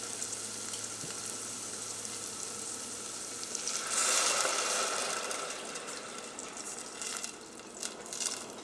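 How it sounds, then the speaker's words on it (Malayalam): Vegetables crackle in ghee, then water poured into the pan sets off a louder, rushing sizzle that gradually settles back to a low hiss. "അപ്പോൾ വെജിറ്റബിൾസ് ആ നെയ്യിൽ നന്നായിട്ട് നമുക്ക് വെള്ളം ചേർക്കാം."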